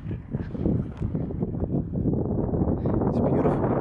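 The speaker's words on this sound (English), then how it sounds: "It's very windy up here." Gusty wind near the top of a mountain pass buffets the microphone in low, surging rumbles that rise and fall, loud and close, with no clear talking.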